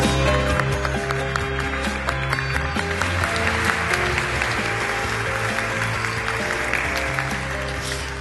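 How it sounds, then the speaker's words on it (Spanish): A conference audience applauds to welcome a speaker in a steady, dense wash of clapping that fills the hall, with music or other sound running underneath throughout. "Pedimos por favor un aplauso para recibirla."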